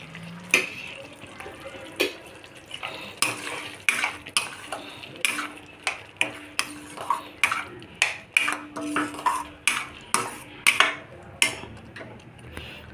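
Milk cream being stirred into boiling palak paneer curry, a spoon clinking and scraping against the pot in quick repeated strokes, close and clear with no voices.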